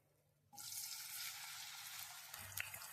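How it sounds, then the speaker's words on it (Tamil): Raw plantain pieces drop into hot oil for deep frying, setting off a sudden loud sizzle that holds as a steady, bubbling crackle, with a soft clink near the end. "எண்ணெய் சூடாயிடுச்சு, எல்லாம் போட்டு பொரிச்சு எடுத்துடலாம்"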